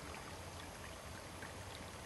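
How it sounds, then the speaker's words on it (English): Water rushes steadily out of a creek diversion channel high on a mountain trail, a continuous close broadband stream sound with no pauses and no voices. "The water now flows straight out to the southeast"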